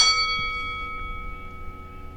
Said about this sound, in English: when I do, you'll hear this bell sound